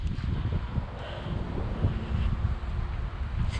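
Cold wind blowing at an outdoor spa on the bank of the Saint Lawrence River, a continuous low rumbling buffet on the microphone with slight rises and falls, no voices.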